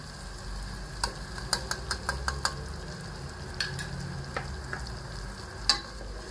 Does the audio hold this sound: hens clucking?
no